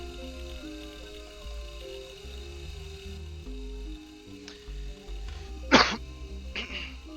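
A single sharp cough bursts out about two thirds of the way through, loud and close, over quiet music and faint ambient tones.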